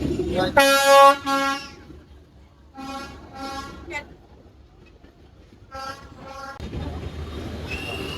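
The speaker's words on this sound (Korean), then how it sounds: "이제 기차 오나 봐요" A train horn sounds in several long blasts, loud then fainter, with rumbling and people talking nearby at a level crossing in Vietnam.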